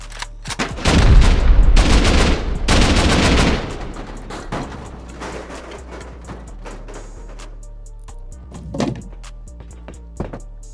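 A rocket launcher fires during a raid in the video game Rust, a loud roaring blast lasting a few seconds followed by fading rumble and a couple of softer distant thuds.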